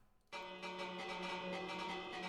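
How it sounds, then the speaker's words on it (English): A church bell rung in the Minecraft video game sounds a single bright chime that starts abruptly after a brief quiet moment and rings on steadily. "Oh, you could ring the church bell."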